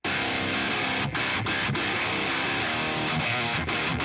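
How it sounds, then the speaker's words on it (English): Dense distorted metal guitar through a Triple Rectifier amp with a different impulse response, loud and continuous with a few sharp palm-muted gaps punctuating the riff; close, no voices. "on the right channel, you're hearing the triple rectifier, but with a different impulse response"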